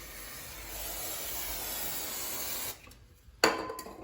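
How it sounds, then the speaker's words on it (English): Activator sprayed from an aerosol can onto the back of a floor transition strip at an exterior door, heard as a steady close hiss lasting under three seconds, then a quiet pause and a sharp handling clack. "So you spray the back of this with the activator."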